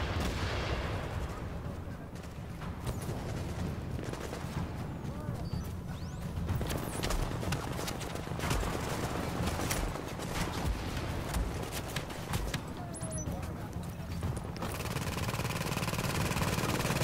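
Automated turret in the video game The Division firing in dense, rapid bursts alongside other gunfire and explosions, loud and continuous across the whole stretch, with battle noise and voices mixed in.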